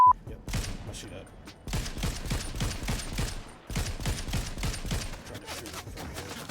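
Dense automatic gunfire in a Fortnite tournament match, with rapid rattling bursts that run almost without a break and a short pause in the middle, loud and close against a steady game background.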